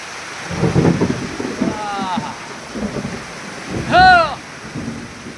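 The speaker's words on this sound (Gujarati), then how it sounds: "એ વીજળીના કડાકાના ભડાકા સાથે વરસાદ થાય." Heavy first monsoon rain falls steadily on a village with low rumbling thunderclaps, and a voice calls out briefly near the end over the downpour.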